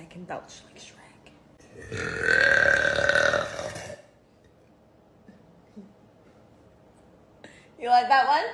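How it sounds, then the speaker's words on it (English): A woman lets out one loud, drawn-out belch lasting about two seconds, followed by quiet and a shorter burst of voice at the end. "But I can belch like Shrek."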